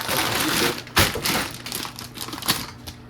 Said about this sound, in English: it's way easier to do if I dump this whole bag into a bowl first